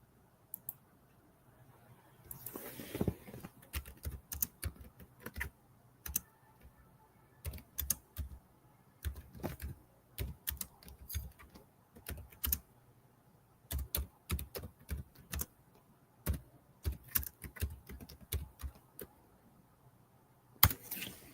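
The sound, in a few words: typing on a computer keyboard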